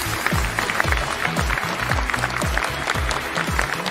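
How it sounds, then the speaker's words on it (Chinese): A studio audience on a televised Chinese job-hunting show welcomes a job seeker onto the stage with steady clapping, mixed under a loud, pounding rhythmic music beat. "掌声欢迎"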